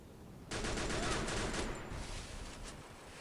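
Rapid automatic gunfire in the Free Fire video game, a loud burst of closely spaced shots lasting over a second, then a few scattered shots as it fades, with no talking.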